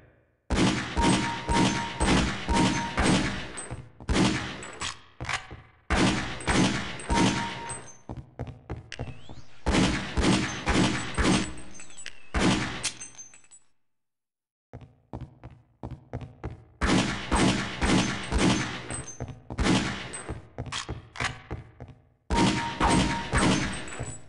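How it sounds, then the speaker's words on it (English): In the video game Half-Life: Opposing Force, guns fire at boot camp targets in loud, close bursts of rapid shots, several volleys separated by short pauses and one longer silent gap, with no talk over them. "The goal is for you to place six shots within the inner circle of each target."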